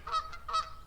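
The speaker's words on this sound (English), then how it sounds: "magnificent Canadian geese on the far side, enjoying their Sunday morning dip" Canada geese on the far side of a lake at Amport and Quarley in Hampshire give two quick, nasal honks in a row, softened by the distance.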